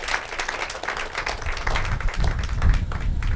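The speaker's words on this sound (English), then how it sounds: "can we just clap hands for what Forfarmers is doing?" A crowd at a canola farmers' day gathering claps their hands in steady, dense applause, even throughout with no voices on top.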